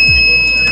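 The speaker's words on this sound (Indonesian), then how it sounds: "Maka lampu merah akan menyala dan buzzer akan Pak berbunyi" A parking distance sensor buzzer sounds as a steady, piercing electronic tone, holding constant for under a second, close and loud, with a brief low thump at the start.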